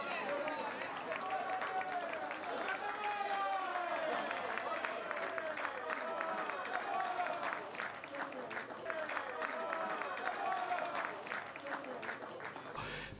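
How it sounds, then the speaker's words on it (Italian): Home supporters applauding a goal at a regional Promozione football match between Pietracuta and Morciano, a steady patter of many hands clapping under continuous commentary. "applauso da parte del proprio pubblico."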